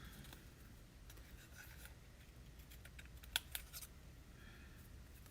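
Scissors snip through card pieces for a papercraft periscope card, faint soft cuts and rubbing with a couple of sharper clicks, quiet and close, with no talk.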